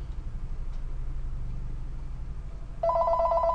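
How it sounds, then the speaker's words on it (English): A telephone receiving a verification call rings with a bright, steady electronic tone that starts suddenly near the end after a low background hum. "my phone should be ringing very soon"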